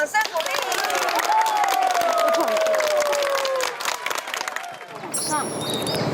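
An audience claps and cheers before a Bollywood dance performance, dense applause filling the room with crowd noise and a voice speaking over it, the clapping thinning out near the end.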